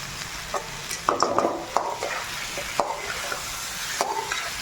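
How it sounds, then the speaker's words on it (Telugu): Chicken frying with chilli powder, curry leaves and green chillies in a pan, a continuous sizzle broken by repeated scraping and clinking stirs of a spoon against the pan, close and without talk. "ఇప్పుడు కారం కరివేపాకు అండ్ అలాగే పచ్చిమిర్చి ఫ్లేవర్స్ చికెన్కి పట్టే వరకు బాగా ఫ్రై చేసుకుందాం"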